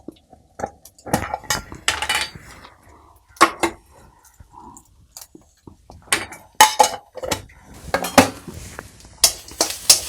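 Coconut, green chili, ginger and curry leaves are roasted in a pan while a utensil stirs, producing irregular sharp metallic scrapes and clinks in uneven bursts over a faint sizzle, close and fairly loud.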